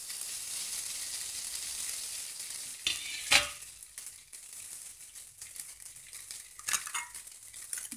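Cut idli pieces frying and being stirred in a pan, a steady broad sizzle with a few sharp scrapes and clatters of the spoon against the metal, close and with no talking.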